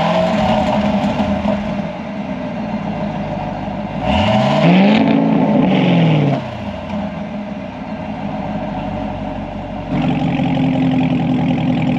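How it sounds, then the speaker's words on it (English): A 2022 Chevrolet Camaro ZL1 with exhaust valves closed idles, then gives one sharp rev that climbs and falls back, followed by a second brief blip near the end, loud and close. "That's the exhaust with the valves closed, so we'll get a quick couple revs with that"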